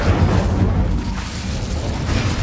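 A booming fiery burst from the Incendio fire spell in Hogwarts Legacy on PS5, a loud, dense whoosh of flame that roars steadily across the short moment.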